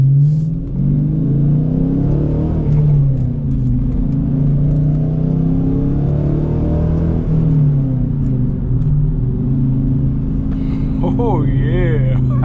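A throaty Dodge Challenger R/T six-speed manual engine rumbles loudly up close, revving and settling in waves with shifting pitch during heel-toe rev matching, and a voice speaks briefly near the end.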